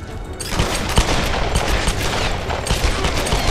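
Loud, rapid gunfire rattles through a firefight in the video game Tomb Raider. Overlapping bursts of shots and booms fill the whole moment close up, with no talking.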